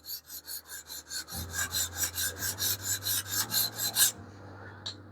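Knife blade drawn across the 6-inch sharpening stones of a TSProf guided sharpener, about fifteen quick, even rasping strokes close to the mic, followed by a short pause and one light scrape.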